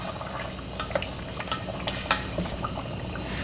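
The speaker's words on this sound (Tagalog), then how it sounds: "Haluin lang natin ito." A spoon stirs beef mechado sauce with potatoes in a hot pot, giving soft scraping clinks and bubbling over a steady simmer, with no talking.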